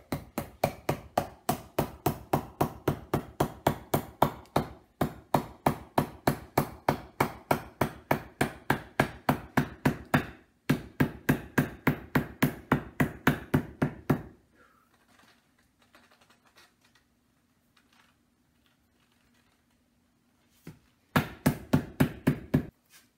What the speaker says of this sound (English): Take a hammer or rubber mallet and you just start hammering.